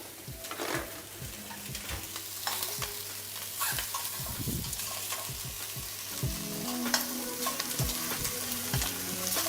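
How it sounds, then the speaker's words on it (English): Lamb sears in a hot pan, giving a steady close sizzle and crackle of frying, with occasional utensil scrapes and stirring knocks, fairly quiet and without talk. "You really want to sear it."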